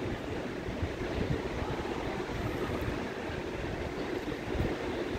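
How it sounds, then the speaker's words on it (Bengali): Raw onions drop into hot oil in a pan, producing a dense, steady sizzling roar at moderate loudness, continuous and without talk. "এখন তেলের ভিতর কাঁচা পেঁয়াজগুলো দিয়ে দিলাম"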